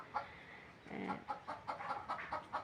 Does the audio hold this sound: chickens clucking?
yes